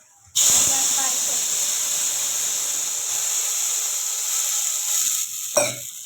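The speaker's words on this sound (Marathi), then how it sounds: "आणि आता आपण गरम जे केले ते पाणी टाकूया" Hot water hits oil in which garlic is browning for a traditional Marathi gram-leaf dish, setting off a sudden loud hiss and sizzle that holds steady for several seconds, then ends in a short clatter.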